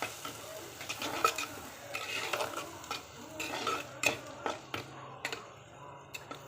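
Chili powder and curry chili powder fry in oil for a fish head curry, a soft sizzle broken by repeated scraping stirs and light clinks of a spoon against the pan.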